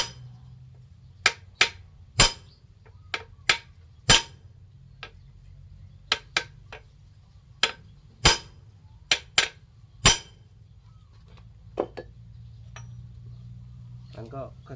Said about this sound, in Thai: จะใช้เหล็กตันครับเหล็กส่ง ใส่ไปนี่ครับ แล้วก็ค้อนเคาะออกครับ